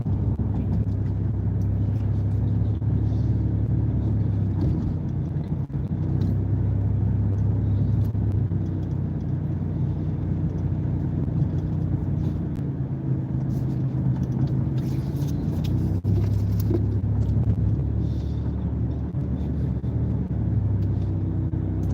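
A car rounds a road curve at about 40 mph, a steady loud engine and tire rumble from inside the cabin continuing without break, with a little talk over it.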